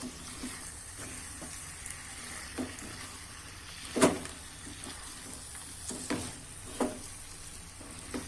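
A spoon stirs farali khichdi ingredients with turmeric in a sizzling pan, giving a steady low frying hiss broken by scattered scrapes and clinks, one sharper knock near the middle.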